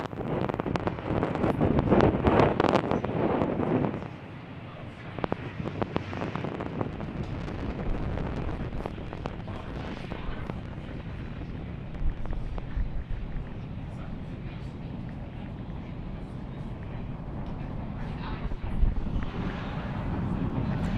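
Falcon 9 rocket with Merlin 1D engines climbing away from pad 39A on a Starlink launch, a continuous broad rumbling roar with wind buffeting on the microphone, loudest in the first few seconds then steady and sustained, with faint talk underneath.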